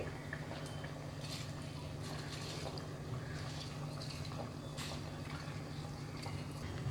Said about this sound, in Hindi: पानी बॉईल हो रहा है।